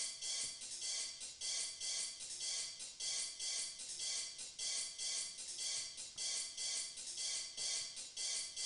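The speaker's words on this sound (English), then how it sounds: "I had these hi hats" Hi-hats in a hip-hop beat playback: a quiet, crisp, rapid ticking pattern repeating in even bursts over a faint backing, steady throughout with no talking.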